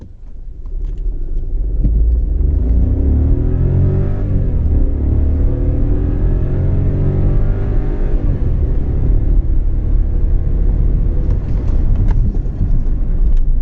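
A Skoda Rapid car in drive mode accelerates steadily, its loud, close engine rumble rising in pitch over about thirteen seconds with no speech.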